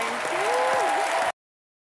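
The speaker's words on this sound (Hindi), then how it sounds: "जोरदार तालियां सोनाक्षी के लिए" A studio audience at a comedy talk show bursts into loud, sustained applause that stays full and even, then cuts off abruptly; a voice briefly rises over the clapping.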